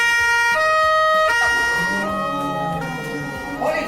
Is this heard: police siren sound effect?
yes